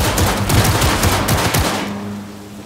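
Video game turrets firing rapid automatic bursts, loud and close, a fast rattling stream that cuts off and leaves a fading tail.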